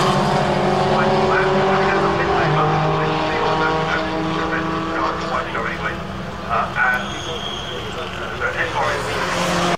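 Lotus Elise race cars roar past on the Brands Hatch GP circuit, a pack of engines blending into a sustained loud drone with shifting pitch, under steady commentary.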